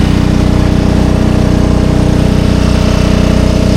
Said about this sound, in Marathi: पंप लावला इथं